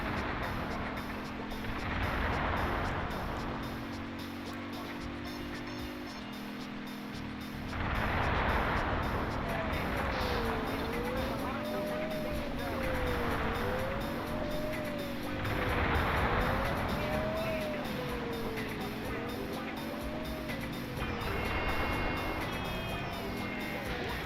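Traffic car engines in the video game Driver 2, a continuous drone of passing vehicles with rising and falling engine whine, fairly loud and without speech.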